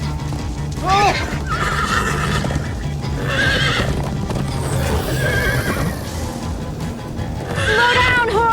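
Horse neighing in Minecraft: Story Mode, a chase scene with several shrill whinnies at intervals over steady clip-clopping hooves and background game music and effects.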